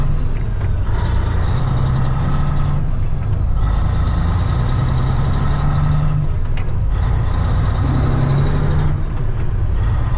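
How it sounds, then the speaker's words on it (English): A grain truck in a farming video game drives on with a loud, steady engine drone, the pitch rising and falling through gear changes, and a few brief mechanical clicks along the way. "you guys can get some satisfying truck driving while we're at it here"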